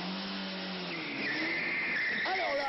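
Tires skid and squeal under hard braking as an old Citroën is flung into a handbrake turn in a vintage TV commercial, a rising screech rolling over steady engine noise, fairly loud and continuous, ending with a sweeping squeal.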